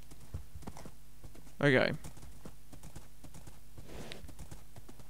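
Horse hooves clip-clop in a steady trotting rhythm in Minecraft, close and clear, while a voice briefly speaks over them.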